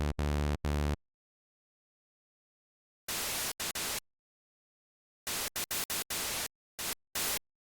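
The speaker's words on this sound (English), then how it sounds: "I need to make a white noise finally." Bursts of generated white noise static, harsh broadband hiss in several short blocks separated by silence, preceded by a brief tonal buzz.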